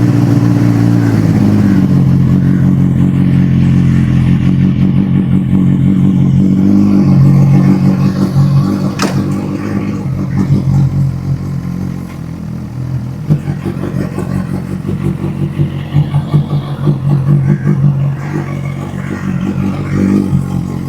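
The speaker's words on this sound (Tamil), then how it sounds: "Now it's time to cold start." Suzuki GSX-1000 motorcycle engine cold starting and idling, a loud, close, continuous low rumble with some clatter, steady throughout and slightly rougher toward the end, with no voices.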